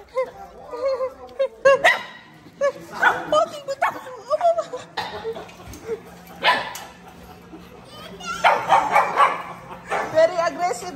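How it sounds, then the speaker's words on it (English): Two aggressive dogs bark repeatedly in loud, irregular bursts with some whimpers and yips, close by in a rural Brazilian province setting, with people talking throughout. "Very aggressive this two dog."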